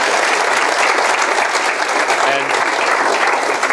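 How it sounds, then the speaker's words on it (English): Dense audience applause in a live business-talk setting, loud and continuous throughout with no pauses and a steady crowd wash of many hands. "Let's give him a round of applause"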